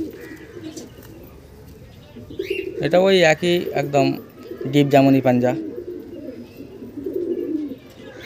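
A male Andhra pigeon coos in low, murmuring phrases in the background while someone talks loudly over it at close range.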